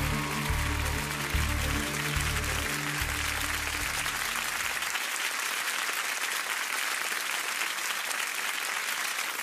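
Sustained audience applause for singers on a live TF1 talent show, loud and dense throughout, with music fading out midway and the clapping continuing alone.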